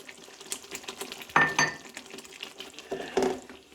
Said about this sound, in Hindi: हिला दूंगी